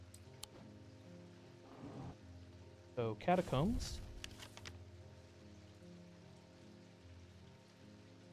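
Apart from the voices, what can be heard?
rain in the video game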